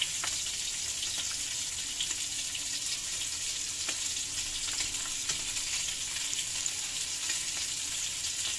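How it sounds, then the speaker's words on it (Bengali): Fresh sea fish, seasoned only with salt, sizzles steadily in a frying pan, a dense, continuous hiss with faint crackles that holds evenly throughout with no talking. "আর এখন মাছটা ভাজা হলে তারপরে একটু নেড়ে ফেলে দিব।"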